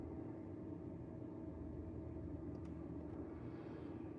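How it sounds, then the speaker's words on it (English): A car engine running on a street, heard as a steady low rumble that holds even and faint throughout with no talk. "there's an engine sound that seems synced"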